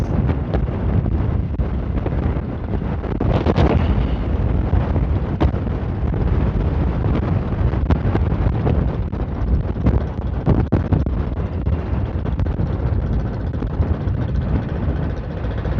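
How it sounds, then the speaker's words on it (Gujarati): Strong wind at Madhavpur beach roars continuously across the microphone, a loud, dense, unbroken rumble with gusty buffeting throughout and no voices. "પવન એ નેક્સ્ટ લેવલ પવન આવે છે"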